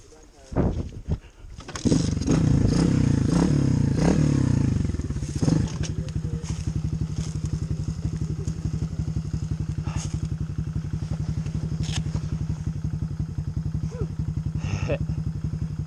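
A KTM 250 dirt bike engine starts with a few thuds, then revs hard to a loud, rough roar for several seconds before dropping back to a steady, throbbing idle that runs on close by.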